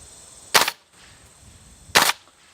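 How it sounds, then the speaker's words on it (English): Two sharp, loud cracks of battlefield blanks fired from a UTM training weapon, roughly one and a half seconds apart, each a short bright burst close by with quiet pauses between. "we take our battlefield blanks and we load those in there. Now these are the noise makers."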